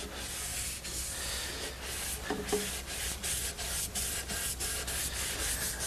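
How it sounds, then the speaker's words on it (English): A clean rag rubbing wood stain along the grain of a pine Shaker step stool, a steady close scrubbing hiss in rhythmic back-and-forth strokes. "Then the next step is to simply rub it with the grain."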